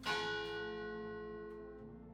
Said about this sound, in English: With that, the bell will toll.